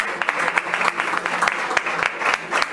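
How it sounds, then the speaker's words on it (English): An audience claps hard for Consolidated Bank Ghana at a customer satisfaction index ceremony, with a dense, steady burst of applause running throughout and no voices over it. "when I mention it, you clap hard"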